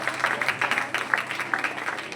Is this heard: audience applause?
yes